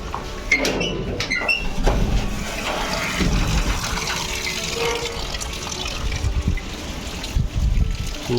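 Water overflows from a rooftop tank after the pump motor was left running, a steady, close rushing and splashing with trickling and dribbling throughout.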